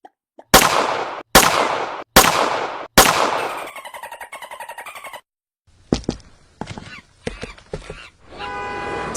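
Gunshots ring out during a bank robbery: four loud, sharp shots spaced evenly, followed by rapid rattling bursts and scattered clattering impacts.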